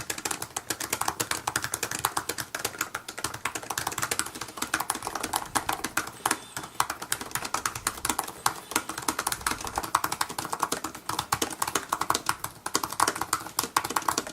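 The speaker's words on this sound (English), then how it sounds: "let's go ahead and take a listen to the keyboard in action to see how they differ" Rapid, steady typing on the keyboard of a 12-inch 2017 Apple MacBook, a dense stream of light, close clicky taps with no talking.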